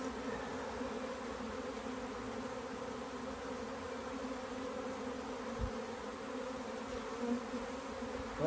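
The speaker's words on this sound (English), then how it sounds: "This is all bees." Honey bees buzz in a dense, continuous drone from an open beehive brood box, a steady close hum with a couple of faint knocks partway through and no voices.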